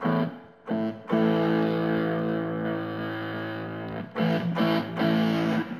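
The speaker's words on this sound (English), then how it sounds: "like a heavy distortion" Electric guitar run through a heavy distortion plugin plays loud, sustained chords, with choppy short stabs at the start and end between brief gaps.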